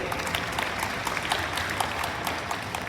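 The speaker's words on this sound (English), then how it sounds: "they deserve a big round of applause" Applause from an audience during a speech honoring the Selangor Mental Health Association, a soft, continuous patter of many hands heard from some distance and fairly quiet.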